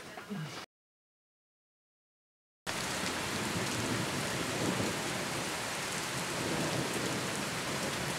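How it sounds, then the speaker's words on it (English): Steady rain pours down under a low, continuous rumble of rolling thunder, loud and close, after a brief gap of silence near the start. "Rolling Thunder."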